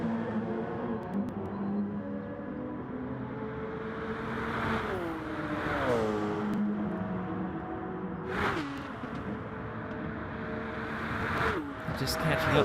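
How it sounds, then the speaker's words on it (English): Racing car engines roar and shift through gears on the Monza circuit during a GT endurance race, with a Toyota's tyres squealing briefly amid the engine noise while a commentator talks over it. "Hear the tyres squealing there"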